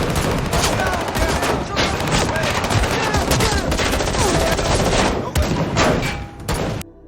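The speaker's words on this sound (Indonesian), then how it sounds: "tiba-tiba mereka dikepung oleh para polisi dan terjadi aksi tembak-tembakan" Police and mafia gangsters exchange gunfire in a shootout scene from an action film. Dense, rapid bursts of loud shots and machine-gun fire keep up almost without a break, mixed with impacts and thuds.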